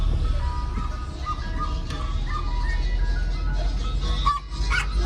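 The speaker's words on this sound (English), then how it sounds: "this little chihuahua that keeps barking" A little chihuahua barks repeatedly on a Philadelphia street, small yips mixed into steady street noise with an idling vehicle and an ice cream truck jingle in the background.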